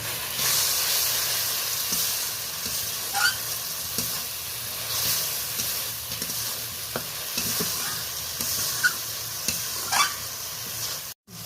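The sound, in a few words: stir-frying spice paste (masala) in oil in a pan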